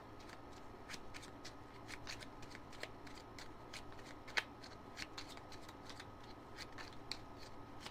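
Tarot and animal oracle cards are shuffled quietly nearby, a run of crisp, repeated riffling snaps and light taps with a few sharper clicks.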